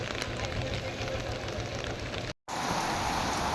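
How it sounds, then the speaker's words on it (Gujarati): A heavy downpour of rain falls on Amarapur village in a loud, dense, continuous roar, broken by one very brief dropout partway through. "અમારા અમરાપુર સમસ્ત ગામની અંદર સતત 2 કલાકથી અવિરત વરસાદ વરી રહ્યો હોય ધોધમાર"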